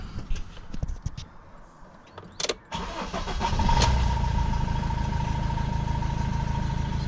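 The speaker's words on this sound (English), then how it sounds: "we'll give the van a quick start" A camper van conversion with a chain-driven engine cranks briefly, catches and then settles into a steady, close idle, with a few knocks and clicks before the start.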